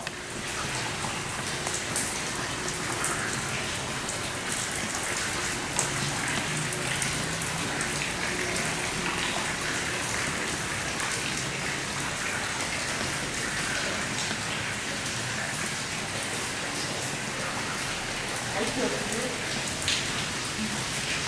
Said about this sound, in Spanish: Está lloviendo, por eso dejamos un poco de grabar.